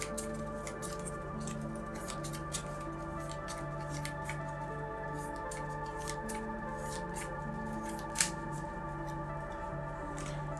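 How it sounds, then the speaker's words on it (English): Board game cards for Slay the Spire are shuffled on a table, a long run of quick crisp riffling and flicking clicks that continues steadily and close by, with no talking. "Gotta shuffle this up."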